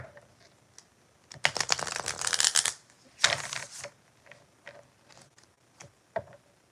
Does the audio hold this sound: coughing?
no